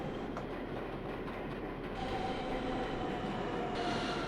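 A NYCT R160 subway train from OpenBVE rumbles steadily along the track, with a continuous broadband roar and a faint high whine emerging partway through; no talking.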